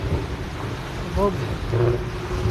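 Heavy rain pours over a flooded street in Dubai, a steady broadband hiss with wet splashing and a vehicle moving through water, plus brief voices in the background.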